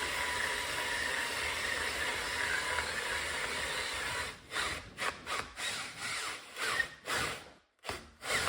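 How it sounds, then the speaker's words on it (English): A hand drill bores a hole while building a gas forge, a steady grinding, rubbing whir for about four seconds, then breaking into short, uneven bursts with brief gaps as the bit catches and stops. "Now just to drill a hole right there."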